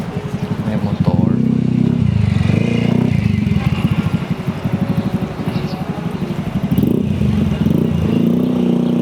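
A motorcycle rumbles past on a busy Divisoria market street, its engine chugging close by, with people talking over the bustle.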